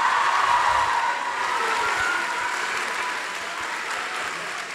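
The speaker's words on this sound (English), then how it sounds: "let's get a quick round of applause for that dance parents number that you guys just witnessed" An audience breaks into loud, dense applause after a dance-parents number at a Greek Sing 2024 show; the clapping stays steady throughout and tapers slightly toward the end.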